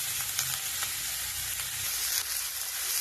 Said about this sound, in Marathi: आपण आता हे छानपैकी असे परतून घेणार आहोत